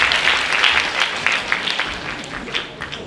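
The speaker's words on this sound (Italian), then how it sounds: "Un applauso a Gerry Scotti" Audience applause for Gerry Scotti at an Italian Christmas music, dance and theatre show, a lively burst of many clapping hands that gradually eases off, with a faint murmur of voices underneath.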